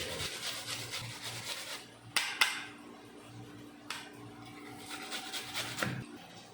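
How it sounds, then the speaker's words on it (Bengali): Onion and tomato are rubbed against a kitchen grater, close, rough scraping strokes broken by a few sharp knocks and clacks. "এখন পেঁয়াজ আর টমেটো ভালো করে ঘষে নেব।"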